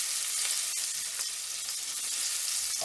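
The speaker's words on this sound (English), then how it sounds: "Now we're gonna brown our garlic and chili pepper" Garlic and chili pepper brown in hot oil in a pan for drunken noodles, a loud, steady close-up sizzle with faint stirring scrapes and no voices.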